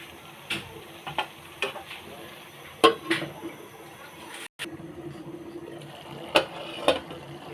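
Cauliflower, beans and potato fry in a gravy with a soft sizzle under scattered spoon scrapes and pot clinks, close up, with a brief cut in the middle.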